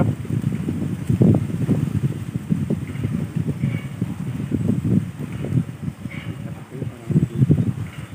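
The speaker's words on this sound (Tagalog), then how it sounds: "ay lakas ng hangin pa." Strong gusty wind buffets the microphone in a continuous low rumble, rising and falling with no voices heard, outdoors during a dove hunt in the Philippines.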